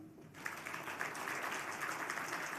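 A crowd at a national economic collaboration forum bursts into applause after a brief quiet moment, clapping steadily and fairly faintly.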